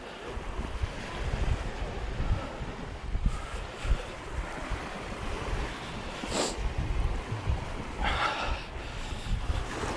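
Small waves wash onto a sea beach as the tide goes out, a continuous rushing surge mixed with gusty wind buffeting the microphone and a few brief louder splashes.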